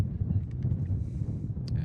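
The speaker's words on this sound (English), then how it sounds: "it is windy as can be out there" Low, rumbling wind buffets the microphone in steady gusts at an outdoor baseball game, with faint distant noises above it.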